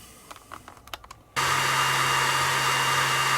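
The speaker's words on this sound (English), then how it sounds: "I'm doing an engraving, and it's in XCS" Laser engraver working on a reflective gold-coloured metal coaster: after a few quiet clicks and taps, a loud steady fan-like whoosh with a constant low hum starts abruptly and continues unbroken.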